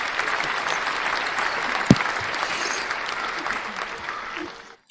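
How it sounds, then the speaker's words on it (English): A large audience gives a sustained round of applause, dense and even clapping across the room with a single sharp knock partway through, thinning out and fading at the end, with faint voices underneath. "And I want to give her a round of applause too."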